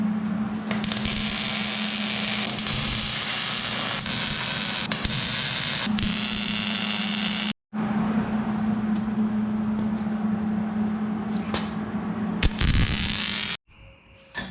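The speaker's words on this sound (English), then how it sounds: "I guess I shouldn't be welding in shorts." Arc welding on the frame of a 600cc off-road crosskart buggy: a harsh, crackling buzz with a steady hum, running in long continuous beads broken by two brief stops, close and loud.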